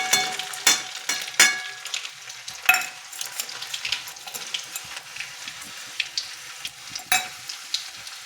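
Toor dal frying in a pan, crackling sizzle punctuated by sharp scraping and stirring clatters at irregular intervals, close and fairly loud, with no talking.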